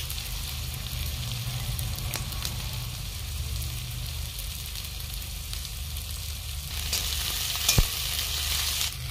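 Chopped onion and green chilli frying in a pan, a steady close sizzle with occasional light stirring clicks.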